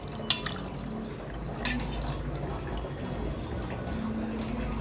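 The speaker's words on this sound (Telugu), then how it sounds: "ఇప్పుడు కొత్తిమీర కడుక్కొని వేసేసుకుందాము కూరలో." Fresh coriander leaves are rinsed in water in a home kitchen while fish curry is being made, producing soft continuous splashing and dripping with a couple of sharper splashes near the start.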